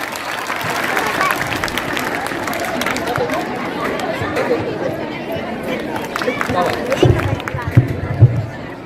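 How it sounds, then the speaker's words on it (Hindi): An audience at a school annual function with a qawwali performance applauds and chatters in a continuous crowd wash, with some louder claps near the end. "इसका बेहतरीन इंतजाम करने वाले मोहसिन भाई, इनकी जानिब से भी आपकी तालियों में 10 रुपये का इनाम।"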